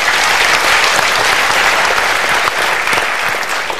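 An audience claps together at a seminar, dense and loud steady applause that fills the room from start to finish without letting up.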